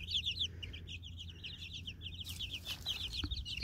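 Young chicks, with a young cockerel among them, cheep in a steady stream of high, rapid peeps, with occasional soft clucks from nearby fowl, all close and fairly loud throughout.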